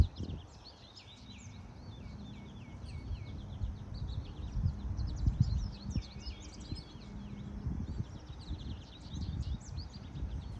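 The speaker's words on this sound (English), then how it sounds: "I don't know if you can appreciate or hear all the birds chirping" Birds chirping in an early spring garden, with a goldfinch among them, faint scattered tweets and calls over soft low rustling and handling noise.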